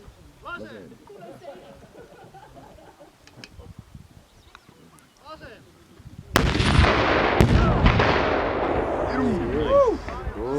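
Anti-tank weapon fired during a Defence League shooting exercise, one loud blast followed by a long rumbling echo and a second sharp crack, heard after people talking quietly outdoors.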